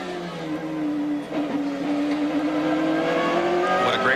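Onboard a PTG BMW M3 GTR GT-class race car at Petit Le Mans, Road Atlanta 2001, the engine drones steadily with a rising, gliding pitch as it accelerates, a brief dip before climbing again, under faint commentary.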